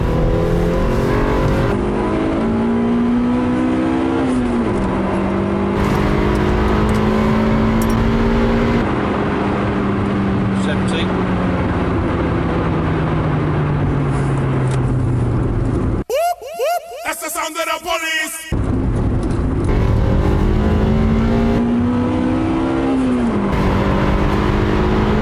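An old, rattly Honda-style engine with VTEC revs hard from inside the car, its pitch climbing in long sweeps, briefly dropping and rising again as VTEC engages, then settling into a steady high drone with wind rush.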